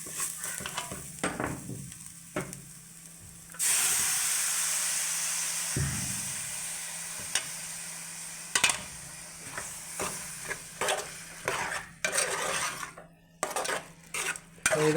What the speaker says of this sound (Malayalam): അതിന് നമ്മൾ കുക്കറിൽ വേവിച്ച് വെച്ചിരിക്കുന്ന ബീഫ് എടുത്ത് തട്ടുകയാണ്.